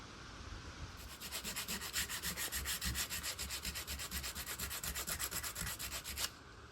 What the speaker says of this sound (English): Just kind of sanding the fronts where you can't get in there with a sander.